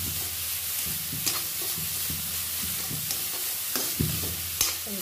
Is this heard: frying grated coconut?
yes